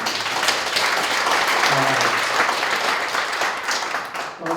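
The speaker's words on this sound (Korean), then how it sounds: "네, 박수 한번." Audience applause at a book concert, loud and sustained throughout, a thick continuous patter of many hands that tapers slightly at the very end.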